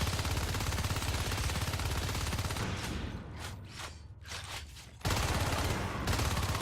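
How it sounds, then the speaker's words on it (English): Video game gunfire from a competitive Descent match: a dense, continuous rattle of rapid shots that briefly thins out and then surges back at full loudness. "What a great shot by Toby to hit Bitey before he even comes in"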